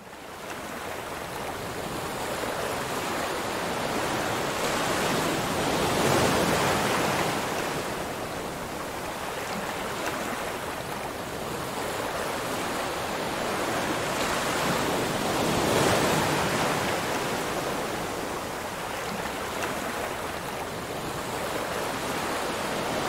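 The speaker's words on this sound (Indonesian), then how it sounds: "Dua menit saudara ngelihat ombak seperti itu" Ocean waves roll in and break in slow surges, swelling loud about every ten seconds over a constant wash of surf and wind, with no voices.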